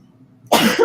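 A person coughs and clears their throat once, a sudden loud burst following a quiet stretch of faint background.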